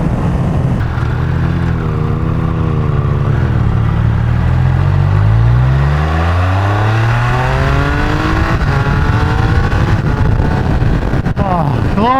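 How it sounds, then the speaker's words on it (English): A sport motorcycle engine, on a Triumph or Ducati sportbike, pulls hard through rising pitch sweeps, with quick crisp quick-shifter gear changes breaking each climb, loud and close amid wind noise. "Glorious with the quick shifter."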